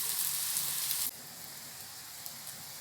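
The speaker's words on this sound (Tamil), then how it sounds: "இதையும் 2 சைடு வேக வச்சு எடுத்துடலாம்" Wheat flour snacks fry in hot oil with a dense, crackling sizzle close by. The sizzle is loud at first, then drops to a quieter steady bubbling after about a second.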